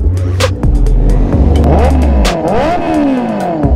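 A car fitted with an aftermarket Zeus exhaust muffler revs hard and loud, its engine note climbing and falling in repeated sweeping blips, close by and with no talking.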